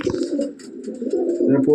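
A teddy pigeon in a loft gives low, throaty coos in a continuous rolling murmur, close and fairly loud, with some possible voice mixed in.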